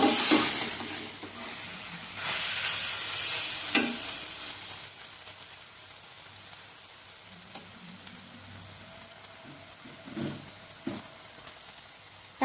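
Star fruit pickle being stirred in a pan with salt and turmeric, a steady soft sizzle broken by a few scraping stirs near the start and end, close and with no talk.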